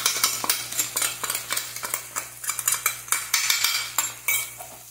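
A spoon scrapes and clinks against a metal pan while spiced raw mango stir-fry is mixed, in a brisk repeated rhythm of close, bright strokes with no speech.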